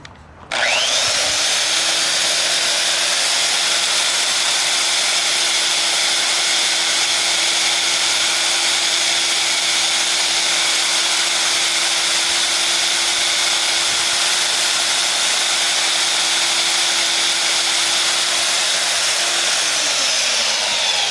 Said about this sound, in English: Just turn on your belt sander and grind it down.